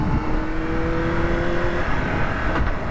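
A Honda CBR600RR motorcycle stuck in third gear pulls away from traffic lights, its engine note rising steadily and loud, heard from the rider's position without talking.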